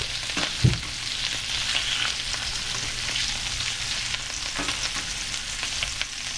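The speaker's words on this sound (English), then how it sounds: "it's like a few seconds on each side. Just a quick sear." Fresh-caught fish pieces sear briefly in a hot pan, producing a loud, steady close-up sizzle with a couple of sharper knocks as pieces are flipped, no voices present.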